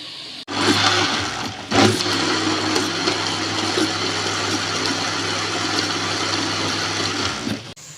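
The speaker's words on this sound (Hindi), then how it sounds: "इतनी देर में इसे ब्लेंड कर लें" An electric blender whirs steadily for about seven seconds, grinding a chicken masala paste for karahi, loud and close with a steady motor hum and a brief surge near the start.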